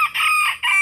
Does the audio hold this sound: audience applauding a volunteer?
no